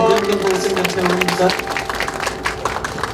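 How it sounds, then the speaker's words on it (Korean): Audience clapping at a church-hosted Christmas tree lighting ceremony at Singil Station, rising into dense, steady applause after a stretch of voices and amplified sound at the start. "우리 박수하겠습니다"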